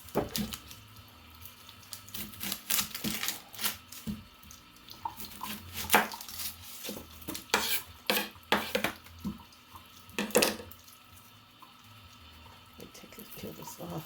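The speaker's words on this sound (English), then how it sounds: "Let some water run, okay?" Running water splashes from a tap with intermittent louder bursts, as if hands or objects pass under the stream, fairly quiet overall.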